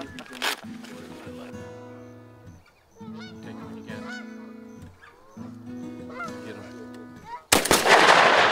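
Wild geese honk repeatedly during a morning goose hunt in Michigan, their overlapping calls close and fairly loud, ending with a sharp loud blast near the end.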